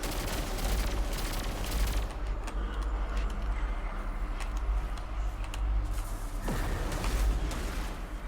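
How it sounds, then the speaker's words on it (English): Explosions and gunfire in the video game Destiny 2 keep up a dense, loud barrage of shots and blasts throughout, with a deep boom swelling near the end. "that explosion will hurt you if you're next to it"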